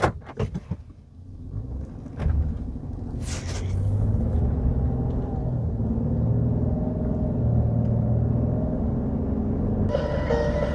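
Interior rumble of a car driving along the road toward Queen City Summit, a steady low drone after a few knocks and clatters at the start, with a brief brighter tonal sound near the end.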